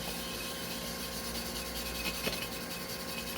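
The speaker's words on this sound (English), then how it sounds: "I'm going to go with the steel wool." Coarse number 1 steel wool scrubbing a chrome hubcap treated with penetrating fluid, a steady close rubbing and scratching that runs continuously, with no talking.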